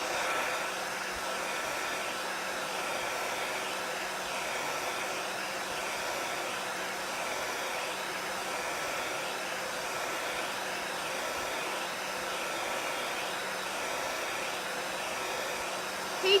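A hair dryer blows steadily and loudly on a Chalk Couture transfer applied to a box frame, a continuous broadband whoosh that holds level for the whole stretch with no talking over it.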